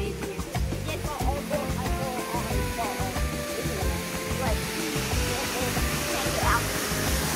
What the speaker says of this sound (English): Look at this waterfall.